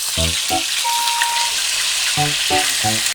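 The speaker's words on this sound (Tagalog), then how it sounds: "Maglalagay na tayo ng isda na marinade natin." Marinated milkfish (bangus) frying in a pan, a steady close sizzle of hot oil running through the whole stretch, with a few short voice-like bursts of talk at the start and near the end.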